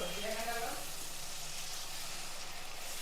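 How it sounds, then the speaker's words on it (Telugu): Onion pieces fry in hot oil with a steady close hiss and soft crackle that fades slightly after the first half second, with a voice briefly audible at the start. "ఇది కొంచెం దోరగా బాగా వేగిపోయినాయి ఉల్లిపాయ ముక్కలు"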